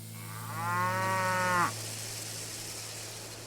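A single long, close cow moo rises and holds for about a second over a steady low hum, from a cattle farm in the railway-building video game Railway Empire 2.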